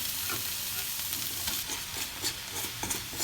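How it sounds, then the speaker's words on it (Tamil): Sliced snake gourd, already cooked soft, fries in a pan with a fairly quiet, steady sizzle and frequent scraping and stirring sounds close by. "இப்போ தான் ஃப்ரையிங் ப்ராசஸ் ஸ்டார்ட் ஆகும்"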